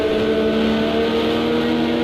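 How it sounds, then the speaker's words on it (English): Race cars, including Ferraris, in Project CARS 2 endurance racing, a loud, steady engine drone with a sustained high whine, held close throughout without a clear pass-by swell. "He's just coming past one of the Ferraris."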